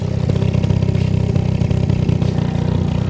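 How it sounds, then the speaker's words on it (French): A motorcycle engine idles just after starting, a steady close rumbling putter with even mechanical clatter throughout and no speech. "Vous entendez le ralenti?"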